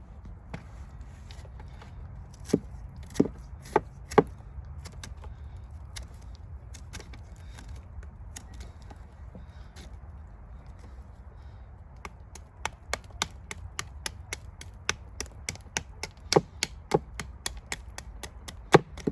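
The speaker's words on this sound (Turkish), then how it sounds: "altta mumu görene kadar kazıma işlemine devam ediyoruz" Beeswax comb is scraped by hand to render natural beeswax, giving quiet scattered scraping clicks and taps, clustered early and growing denser and quicker toward the end, close up with no talking.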